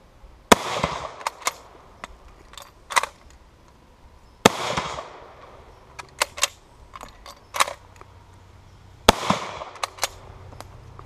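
Three loud, sharp rifle shots from a French Lebel Model 1886/93 bolt-action rifle in 8x50R Lebel, fired in a trench-warfare video game, spaced several seconds apart, with quieter clicks and distant pops in between.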